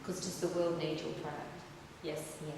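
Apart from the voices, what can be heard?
No distinct noise like a dog, phone or traffic.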